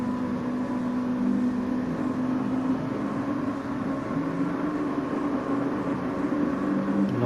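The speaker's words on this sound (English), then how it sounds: "The engines rise." Mazda MX-5 Cup race car engines at a Brands Hatch GP race start in a racing game, a steady droning hum with a constant buzzing tone, held fairly loud and unbroken, with no talking.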